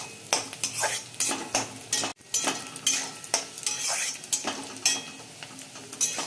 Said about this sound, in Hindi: तो अभी फ़िलहाल इसको हम फ्राई कर रहे हैं